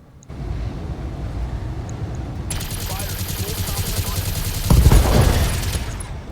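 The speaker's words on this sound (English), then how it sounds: "LRM ammo in there. Precision strike." Weapons fire from a precision strike in the BattleTech mech combat game: a dense, sustained barrage of blasts that grows louder and harsher midway, then peaks with a heavy impact near the end.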